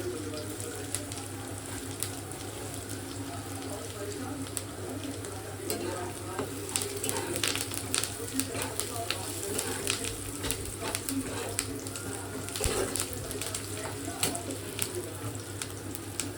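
Curry leaves frying in hot oil in a pan, a steady close sizzle with soft crackles and a few stirring clatters throughout, no talking.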